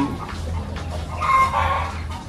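Kampung chickens of an improved breed clucking on a farm, a steady low murmur of several birds with a brighter call rising midway, close and continuous with no talk.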